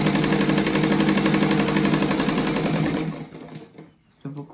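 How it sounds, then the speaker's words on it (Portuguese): A sewing machine stitches fabric strips for a rug in a fast, steady mechanical whir with rapid needle clatter, then slows and stops before a brief restart. "Eu vou costurar ele inteiro"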